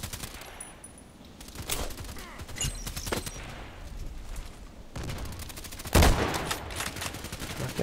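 Gunfire in a military shooter video game, with repeated sharp shots and scattered bursts over several seconds and a louder volley near the end, mixed with game ambience.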